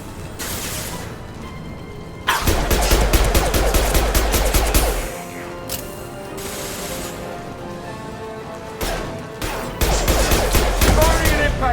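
Impact shot weapon fire in Mass Effect: bursts of rapid, heavy gunfire in clusters, loud and close, broken by short lulls, with a few voices briefly heard between volleys.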